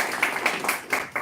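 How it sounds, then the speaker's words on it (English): Several slow, evenly spaced claps ring out at a coaching course session, about five hand claps with quiet gaps between them, moderately close and fairly soft. "Let's clap for that"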